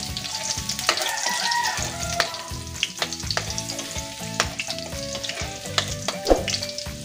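Garlic fries in a pan toward light brown for a sarciadong galunggong fish dish: a steady, close hiss of sizzling oil with scattered pops and a few scraping stirs, and no one speaking.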